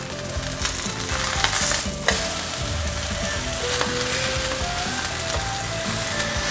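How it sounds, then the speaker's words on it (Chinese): Napa cabbage leaves coated in batter sizzle steadily in a hot frying pan, a close, continuous crackle with a brief louder burst partway through, heard alone. "把沾上面糊的大白菜放进来煎，先让它煎定型"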